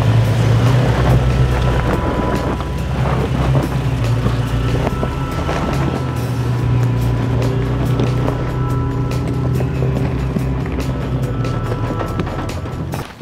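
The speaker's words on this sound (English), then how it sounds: "even though Kelly's rig is stuck in two-wheel drive, it's still making it on these uneven, loose rock" Engine of a 2020 Toyota Tacoma 4WD, stuck in two-wheel drive, droning steadily as it crawls over uneven loose rock on the Smiley Rock trail, with constant low rumble and wind buffeting throughout.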